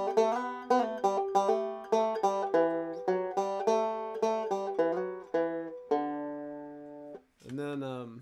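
A banjo picks a simplified version of the melody from a song's kickoff, with bright, quick plucked notes and rolls flowing in a steady run, followed by a brief pause and a final ringing strum.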